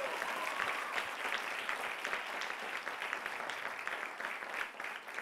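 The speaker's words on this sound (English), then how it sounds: "A round of applause, please." A conference audience breaks into steady, sustained applause, many hands clapping together at moderate volume, a dense even patter with no voices over it.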